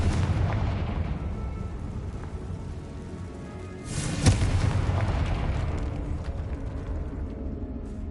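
A Confringo spell blast in the Hogwarts Legacy video game bursts out as one deep explosion about halfway through. A continuous rumbling game background fills the scene before and after it.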